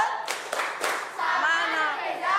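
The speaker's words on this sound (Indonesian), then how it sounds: "Oke, kasih tepuk salut." Children in a school classroom clap a few rhythmic claps in unison, then talking and voices, including children's, take over, with bright sustained vocal tones near the end.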